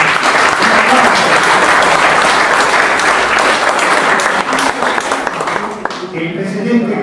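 Loud, enthusiastic audience applause at an academic year opening lecture for a university of the third age, dense continuous clapping with voices calling out over it, tapering slightly near the end.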